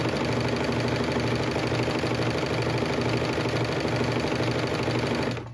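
A Bernina Bernette b68 airthread serger runs at steady speed, a close, loud, continuous rapid mechanical whir and chatter that holds for about five seconds before winding down at the end, with no talking.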